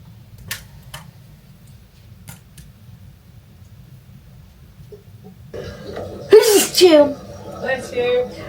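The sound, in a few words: sneeze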